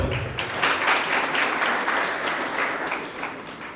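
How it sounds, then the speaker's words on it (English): Audience at the Akatamanso Fair claps steadily and densely for a few seconds, a loud continuous wash of many hands with no one talking over it. "Please clap for yourself"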